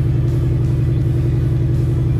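A cold Toyota 1UZ turbo V8 idles steadily and close by, a deep pulsing rumble with an even, throbbing beat and no talk over it.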